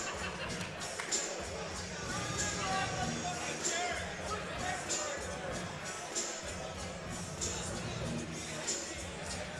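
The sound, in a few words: crowd at MMA fight event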